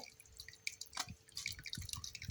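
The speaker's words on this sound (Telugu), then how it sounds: "ఇలా నీళ్లు పిండేసుకొని ఇది పక్కన పెట్టుకుంటే" Water drips from a squeezed banana flower, a few soft irregular drops falling close by with faint kitchen noise in between.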